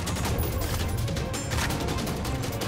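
Dense, chaotic gunfire in Ghost Recon Wildlands, overlapping bursts and cracks blurring together in a loud, continuous clatter without pause.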